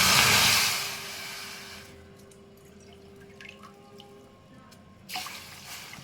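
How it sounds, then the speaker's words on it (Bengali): Water poured from a bowl over sugar in a pan to make syrup for rasgulla, a broad splashing pour at the start that fades into quiet drips and small clinks, ending with a brief second splash. "আমি 1 বাটি মতো চিনি নিয়ে নিলাম, আর আমি 2 বাটি জল দিয়ে দিচ্ছি"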